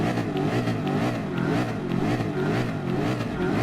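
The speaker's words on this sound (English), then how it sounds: "the engine sound is definitely much different like the ones back in GT5 and GT6" A Ford GT LM Spec II Gr.3 race car in Gran Turismo Sport roars continuously at high revs, a loud dense engine note holding steady throughout with no talking.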